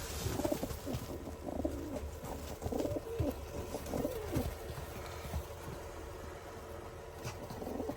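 Long face tumbler pigeons coo close by in repeated soft, throaty bursts, with light shuffling and rustling in between.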